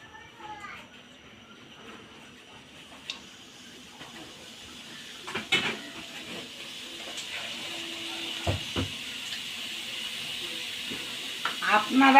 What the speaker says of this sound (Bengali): এই যে কুচানো পেঁয়াজ দিয়ে দিলাম।